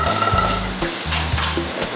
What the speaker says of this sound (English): get that nice and sizzling. You want your pan to be hot.